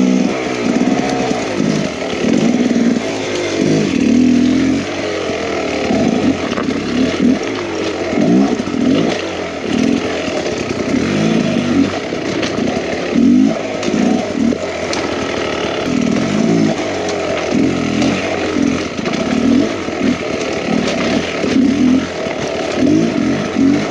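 Enduro motorcycle picking its way over huge rocks on a hard trail, the engine buzzing loud and close throughout with constant throttle blips and surges, uneven and choppy, no speech.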